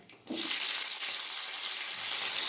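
Nigella seeds, slit green chillies and tomato hit hot oil with a sudden loud sizzle that holds as a dense, steady hiss and crackle for a couple of seconds.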